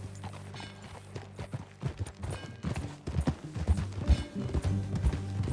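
Horse hooves clip-clopping at a steady walking rhythm in Red Dead Redemption 2, close and fairly loud over a low ambient bed, with a faint whinny-like call mixed in.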